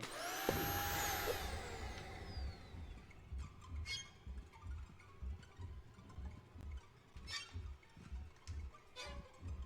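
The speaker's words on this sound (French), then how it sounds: "Allez hop dans l'aspirateur l'araignée." Vacuum cleaner sucking up a spider in the video game Kill It With Fire, with a rising whine and swooshes at the start followed by a steady pulsing hum and a few sharp bursts.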